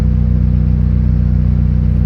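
A Honda B-series engine fitted with individual throttle bodies on a D-series manifold idles steadily up close, a loud, even, low rumble with a regular pulsing beat and no change in pitch.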